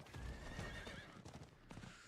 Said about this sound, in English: God damn, this horse is slow.